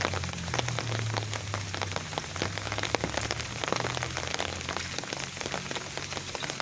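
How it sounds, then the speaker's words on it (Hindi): Heavy rain pours steadily onto plants outdoors, a dense continuous patter with scattered louder drops, fairly close and alone without any talk. "इतनी ज़्यादा बारिश हो रही है"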